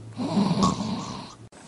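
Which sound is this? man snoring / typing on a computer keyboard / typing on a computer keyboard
man snoring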